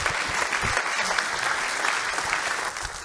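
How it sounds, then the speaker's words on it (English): A conference audience applauds after a keynote speech, a dense continuous wash of many hands clapping that holds steady throughout and fades slightly at the end. "Let's give him another round of applause."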